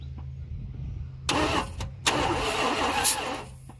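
A Dodge Ramcharger engine is cranked over in short bursts with a steady rhythmic chugging, fairly close, broken by brief pauses, with a low hum underneath.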